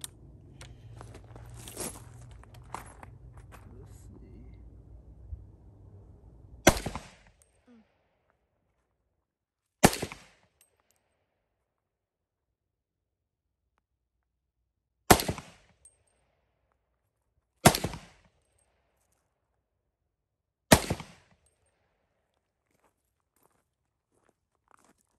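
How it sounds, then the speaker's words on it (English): Five separate gunshots from a Q Honey Badger rifle, sharp loud cracks spaced a few seconds apart with silence between, following a stretch of low handling noise and rumble at the start. "I shot five shots"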